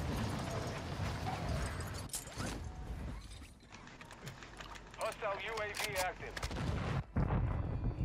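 Gunfire in the Call of Duty video game, scattered shots and mechanical clatter mixed with in-game effects, heard under a player's voice talking.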